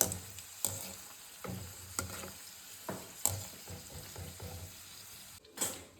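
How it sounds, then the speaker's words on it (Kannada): Pieces of dry coconut fry in a pan for a poha mixture, a soft low sizzle broken by irregular sharp scrapes and taps of a spatula, fairly quiet and close. "ಇವಾಗ ಕೊಬ್ಬರಿನ ಹಾಕ್ಕೊಂಡು ಫ್ರೈ ಮಾಡ್ಕೋಬೇಕು"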